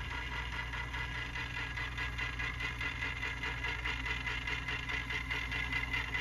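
A White Rodgers 1311 zone valve motor runs to open the valve, giving a faint steady hum and buzzing drone with a rapid regular flutter, continuous and close, with no voices.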